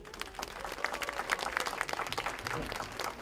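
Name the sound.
applause at a government meeting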